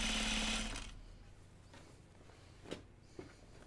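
A sewing machine runs in a short loud burst while stitching a Texas Top garment, the motor whirring for about a second before stopping, followed by faint handling noises and a couple of small clicks.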